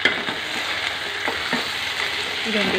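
Carrot and potato pieces fry in a pan for a home-style vegetable curry, with a steady close sizzle and soft scraping as they are stirred, continuous and moderately loud, with no talking.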